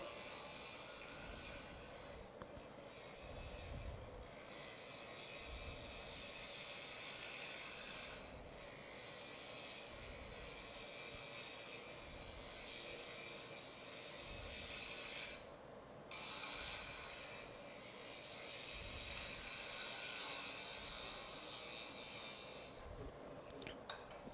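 A negative rake scraper shaves scrap wood spinning on a lathe, a steady rasping scrape with a low motor hum underneath, continuous and fairly quiet with slight rhythmic pulsing.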